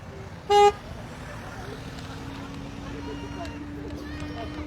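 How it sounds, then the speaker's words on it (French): A line of cars in a freedom convoy from Bayonne to Paris passing through La Rochelle, with one short, loud horn toot followed by a steady roadway rumble of vehicles rolling past, voices nearby. "Des voitures en caravane."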